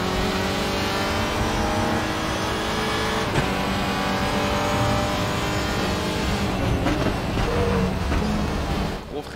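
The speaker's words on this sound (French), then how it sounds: "Gros freinage ici." A WTCR touring race car braking hard at Motegi circuit, heard from onboard as a loud, continuous engine roar that drops in pitch as the car slows, with brief mechanical clunks near the end.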